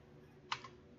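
A single keystroke or short burst of typing on a computer keyboard, one sharp click followed by a fainter second tap over a quiet background with no voices.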